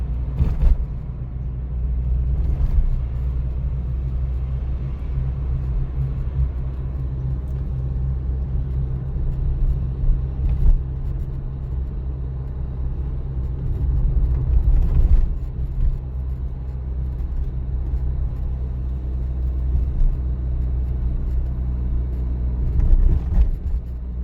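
A car engine in third gear at 40 km/h, turning about 1500 rpm, gives a steady low drone from inside the cabin, with occasional louder thumps from the road.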